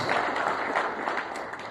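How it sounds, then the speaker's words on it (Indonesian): Church congregation applauding during a Christmas sermon, a short burst of dense, steady clapping from many hands in a reverberant hall, no voices over it. "Tepuk tangan yang terbaik buat Tuhan Yesus Kristus"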